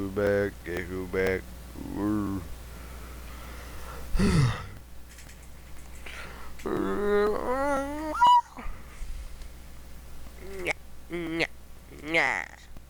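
A dog makes whimpering, yippy vocalizations mixed with human talk, with a few short sharp sounds scattered through.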